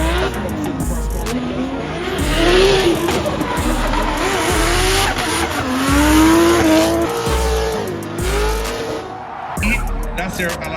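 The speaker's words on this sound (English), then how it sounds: "Kevin Quinn known for the rev limiter, and you can already hear it screaming as he comes down the hill" A loud drift car engine screams and bounces off its rev limiter as it comes down a hill at a DriftMasters competition, tires squealing through a drift, while an announcer talks over it.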